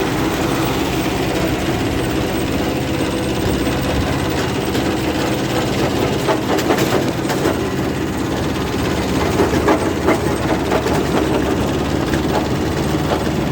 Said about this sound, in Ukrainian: тут катаються на тракторці